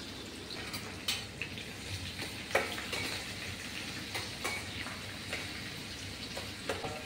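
Ginger dropped into hot oil with cumin and garlic while chicken curry is being cooked: a steady, low sizzling hiss with small crackling pops and a few stirring knocks, quiet and continuous.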